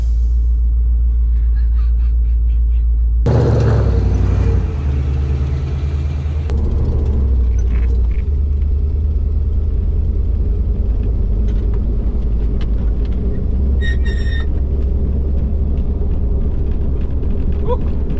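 An old Jeep Wagoneer, left sitting for years, fires up with a sudden loud burst, then rumbles low and steady as it runs and drives, with faint clatter over the engine.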